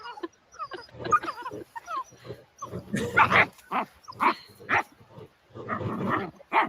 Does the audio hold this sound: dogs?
yes